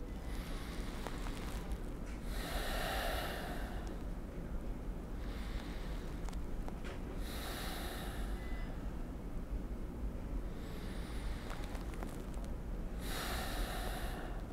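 Slow deep breaths drawn in through the nose over a folded alcohol wipe, three long sniffing inhales spaced several seconds apart, close and clear over a steady background hum.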